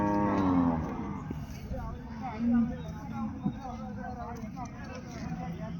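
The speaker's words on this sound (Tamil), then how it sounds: "காளை மாடு." Bull cattle at a busy livestock market near Erode give a couple of low moos amid crowd chatter and background vehicle noise, with someone talking nearby.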